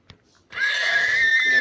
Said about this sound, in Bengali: ঘোড়াটা তো মারতে পারতেছি না।